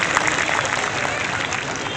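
Crowd applause at a village festival closing ceremony in Adgaon, a dense continuous clatter of clapping filling the space, steady and fairly loud for the whole moment.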